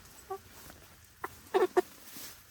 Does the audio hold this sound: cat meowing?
no